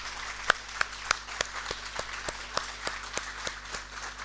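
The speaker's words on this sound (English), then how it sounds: "I would request the audience to make this moment memorable by a thunderous round of applause." Sparse, scattered clapping from a small audience at a book launch at a university, distinct individual claps in a steady, fairly quiet rhythm.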